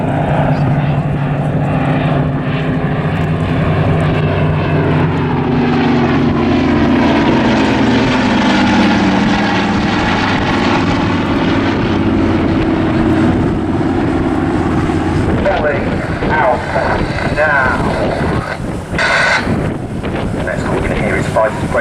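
A Douglas Dakota propeller aircraft with the Battle of Britain Memorial Flight displays at the Southport Airshow, its engine drone loud and steady throughout, with heavy wind buffeting the microphone and a shifting pitch as it passes.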